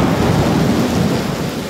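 Steady rain and distant thunder roll over a Cuban town as a storm arrives, a dense continuous roar of downpour with a low rumble underneath and no voices.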